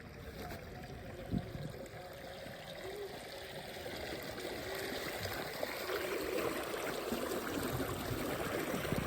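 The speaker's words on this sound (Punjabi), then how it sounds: "ਇੱਧਰ ਪਾਣੀ ਚੱਲੀ ਜਾਂਦਾ ਜੀ" Irrigation water from a motor pump flows along a channel into a green mung bean field, a soft, continuous trickling and rushing that grows slightly fuller toward the end, with no talk.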